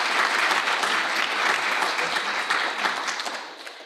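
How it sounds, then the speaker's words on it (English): A large audience applauds award honorees at the Citation 2021 event, a dense wash of clapping that holds steady and then gradually thins and fades near the end. "One more round of applause, please,"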